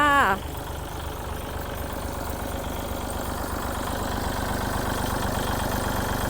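The engine of a used Kubota L3608 farm tractor idles steadily and smoothly at close range, a continuous low even rumble heard after a brief voice at the very start.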